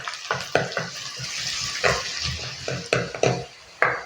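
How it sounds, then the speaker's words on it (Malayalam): Sliced ginger is sautéed in a pan for a Malabar fish curry, with steady sizzling in oil broken by repeated scraping and clinking of a spoon against the pan, close and moderately loud, with no talk. "അതിൻ്റെ കൂടെ ഒരു ചെറിയ കഷ്ണം ഇഞ്ചി ഇതുപോലെ നീളത്തിലരിഞ്ഞതുകൂടെ ചേർത്ത് നമുക്കൊന്ന് സോട്ട് ചെയ്തെടുക്കാം."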